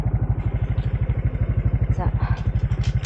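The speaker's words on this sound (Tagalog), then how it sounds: "Ang sobrang ingay ng motor ni Dodong" Dodong's motorcycle engine runs loud and close, a steady rapid low thumping pulse that holds throughout with a faint rising note near the end.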